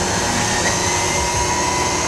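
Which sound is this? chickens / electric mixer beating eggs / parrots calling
electric mixer beating eggs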